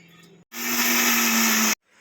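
A mixer grinder grinding coconut and green chillies whirs loudly for about a second, starting and stopping abruptly with a high, buzzing motor whine as it chops.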